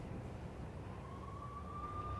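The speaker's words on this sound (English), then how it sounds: "I could hear the sirens. Their wail was a crescendo." Police sirens from the Max Payne video game, a rising wail emerging over a dense low rumble of city ambience partway through, swelling steadily toward the end.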